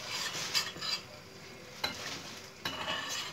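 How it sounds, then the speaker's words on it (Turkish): Butter and oil sizzling with red pepper flakes and dried mint in a pan, a steady close crackle with occasional sharper pops as it is stirred, no voices. "Kırmızı biberle de naneyi yaktım."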